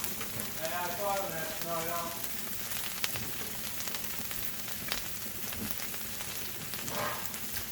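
Smashburger sliders frying on a Blackstone griddle, a steady, fairly quiet hiss and crackle of sizzling patties that runs throughout, with brief faint voices early on.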